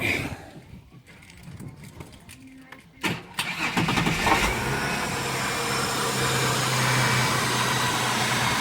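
A VP/VR/VS Commodore ambulance engine cranking and catching after a loose battery terminal, then settling into a steady, smooth idle close by, with a few quiet clicks and rattles before it starts.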